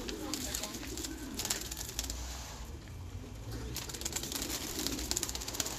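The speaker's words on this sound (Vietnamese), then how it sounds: "Những cái cặp chim bồ câu Thái siêu thịt ở trại mình" Thai meat pigeons coo at a pigeon farm, soft overlapping calls carrying over steady barn noise, with faint rustling and no clear talk.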